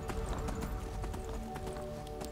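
A horse gallops in the video game Skyrim, its hooves beating a rapid, steady clip-clop rhythm close by, sounding at a fairly low level.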